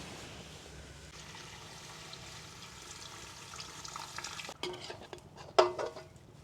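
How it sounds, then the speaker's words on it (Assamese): Water poured into local chicken curry frying in a pan: a soft, steady sizzle with stirring builds into a sudden splashing burst and clatter near the end, with no voices. "এতিয়া ইয়াত পানী দি দিম।"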